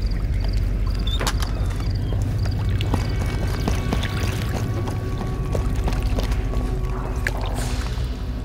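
A boat moving across a lake toward a dock in a game set in Africa, with a steady engine drone and water washing and splashing against the hull, loud and close throughout.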